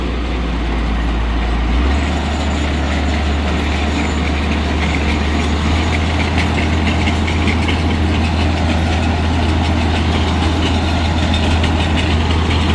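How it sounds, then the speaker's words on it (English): A tractor engine running an old round baler bought in 1990, a loud close steady drone with a deep hum that drops in pitch early on and continues unbroken. "This was Grandpa's old round baler."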